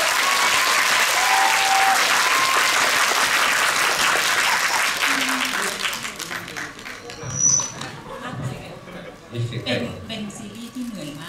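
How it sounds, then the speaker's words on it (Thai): Audience applause at a premiere event for a drama series, loud and dense through the first half, then thinning and fading into scattered claps under crowd murmur and talk. "เสียงปรบมือด้วยครับ"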